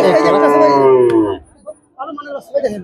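A Sahiwal bull calf at a Friday cattle market in Betaga lets out one loud, close, drawn-out moo, followed by brief voices nearby.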